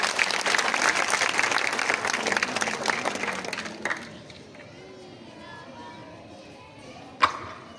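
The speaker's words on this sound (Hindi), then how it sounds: "जोरदार तालियों से स्वागत करें।" A school audience gives dense, loud applause welcoming a student performer to the stage at a poetry recital program. The clapping lasts about four seconds, then stops abruptly into a quieter room with one sharp knock near the end.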